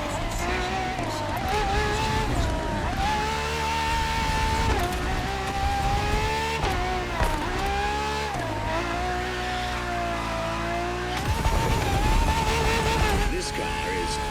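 Ferrari FXX K engine in The Crew Motorfest, a loud close roar that rises and falls through gear shifts with faint tire squeal, while a person talks over it.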